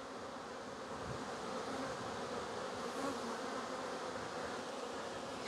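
Many bees hum continuously near their hive as they return with pollen and bump into someone standing close, a thick, even swarm drone with no voices over it.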